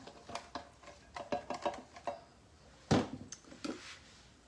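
Chopped cucumber and onion tumble into a batter bowl for a salad, a few light clinks and soft knocks of utensil against bowl, close and quiet, in brief irregular bursts.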